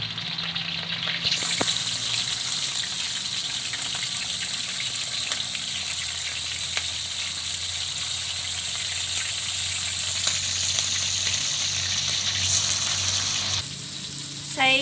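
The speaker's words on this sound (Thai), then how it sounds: "ตั้งกระทะให้ร้อนแล้วก็ใส่หมูลงไปนะคะ เราจะ ทอดหมูก่อนนะคะ" Pork frying in hot oil in a pan over medium heat, a steady broadband sizzle that runs continuously and fairly close for most of the clip, with faint clatter near the end.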